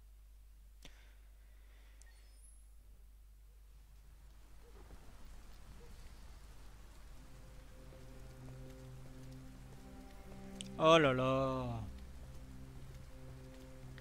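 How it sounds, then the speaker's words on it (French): Steady rain falling in the video game Detroit: Become Human, a soft continuous hiss that builds gradually and stays under the scene, with a brief spoken exclamation and some musical tones near the end. "On est encore sous la pluie, on va tomber malade."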